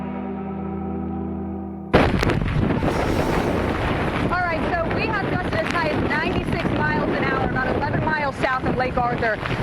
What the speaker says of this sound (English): We've seen gusts up to 62 miles per hour here